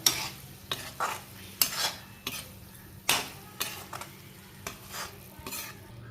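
Field beans masala with curry leaves being stir-fried in a pan, giving a series of sharp spatula scrapes and clinks roughly every half second over a soft, steady sizzle, close and fairly loud with no voices.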